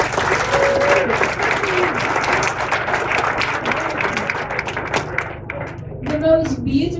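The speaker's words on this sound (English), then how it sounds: "let's give a round of applause to each other for making it" A crowd aboard a river cruise ship claps in a lively round of applause, dense and close, with a few voices and cheers rising near the end as the clapping thins.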